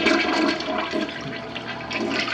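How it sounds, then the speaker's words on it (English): A 1960s toilet in a Dallas house flushes with a steady rushing, gurgling swirl of water, close and continuous. "This is the commode. Everything's supposed to go down"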